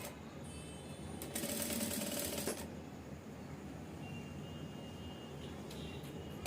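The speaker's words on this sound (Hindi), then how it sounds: "अब पूरे राउंड में जो है आपको इसे सिलाई लगानी है।" A sewing machine stitching around a blouse collar, a low steady mechanical whir heard close up and fairly faint, with a louder rattling stretch early on.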